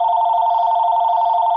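Office telephone ringing with a steady, continuous electronic tone, heard alone without talk.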